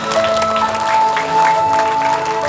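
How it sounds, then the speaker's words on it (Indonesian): An audience at an Eid al-Adha religious gathering claps together over steady sustained musical tones, a continuous, fairly loud burst of applause. "Tepuk tangan untuk kita semuanya."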